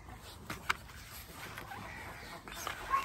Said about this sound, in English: Chickens are interested, they want to know if there's any worms going to come out of here.